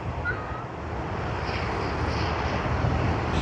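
Qantas Airbus A330 at Sydney Airport, heard as a steady, broad jet-engine roar that holds at an even level throughout, with some wind noise mixed in.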